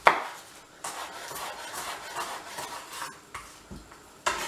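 A knife chopping through a small cauliflower stem on a board, several close sharp cuts and taps spaced irregularly, with a louder knock near the end, no talking.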